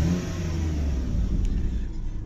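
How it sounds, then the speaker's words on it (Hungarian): BMW 320i Touring with a 2171 cc inline-six engine revving, a low rumbling engine note that swells and holds steady, heard close by with no talk. "2171 köbcentis soros 6 hengeres motor van benne, ami 125 kW, azaz 170 lóerőt, tehát szépen szedi a lábát, illetve nagyon kellemes hangja is van"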